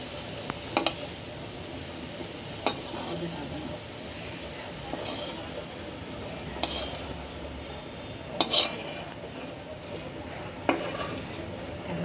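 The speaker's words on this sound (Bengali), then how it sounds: "আমার মরিচ রসুন ভাজা শেষ এখন আমি তুলে ফেলতেছি" A utensil lifts fried chilies and garlic out of a pan, scattered metallic clinks and scrapes over a faint sizzle, close and intermittent.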